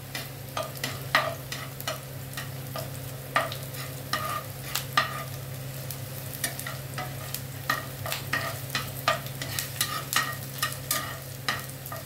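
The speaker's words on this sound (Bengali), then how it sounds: "সেজন্য পেঁয়াজটা আগে তেলে আমি ভেজে নিচ্ছি অল্প করে।" Onion frying in a little oil while being stirred, with frequent sharp scraping clicks of the spatula over a constant low sizzle and hum, close and with no talking.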